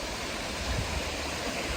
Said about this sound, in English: Just coming up on our first waterfall